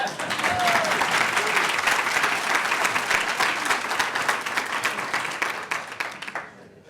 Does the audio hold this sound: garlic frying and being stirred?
no